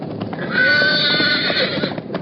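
A roan horse whinnies loudly and close in an old radio drama, a long shrill neigh over scuffling hooves, after being speared in the hip by a splinter, with no talk.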